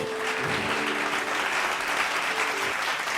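Audience applause at a Bible study gathering, a steady wash of many hands clapping that holds at an even level throughout, with a faint tonal hum underneath.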